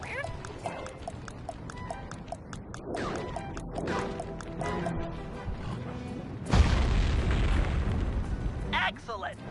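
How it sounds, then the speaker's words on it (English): Dynamite explosion in the video game Sly 3, a heavy booming blast that swells suddenly and rumbles for a couple of seconds, following game sounds and voices talking earlier. "Place the dynamite when you get near the anchor, or kaboom!"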